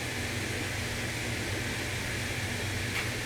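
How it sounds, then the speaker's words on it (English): Steady broadband whir with a low rumble from a washer and dryer running in a closet in the same room, continuous and even throughout with no voices. "The washer and dryer closet is in this room, so that's what's happening right now."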